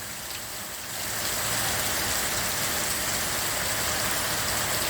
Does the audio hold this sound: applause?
no